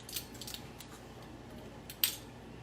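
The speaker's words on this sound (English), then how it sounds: "So I'm gonna get my teaspoon." A teaspoon is picked out of cutlery, giving a few faint metallic clinks and one sharper clink near the end, close by in a quiet kitchen with no talking.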